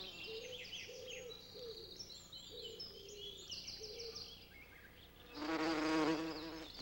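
Bees buzz around foxglove flowers, a close, droning hum with some bird chirps in the background, swelling into a louder, nearer buzz near the end.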